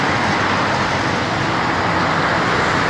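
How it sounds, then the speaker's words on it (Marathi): Fast road traffic rushing past near a temple entrance makes a loud, continuous broadband roar of passing vehicles with no pauses and no voices. "हे बघा एकदम फास्ट चाललेल्या आहेत गाड्या"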